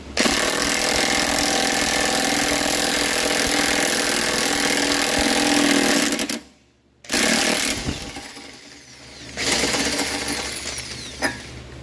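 Impact wrench drawing an ARP wheel stud into the hub flange on a turbocharged Mazda Miata, a loud sustained mechanical rattle for about six seconds, then a brief pause and a second shorter burst of the tool.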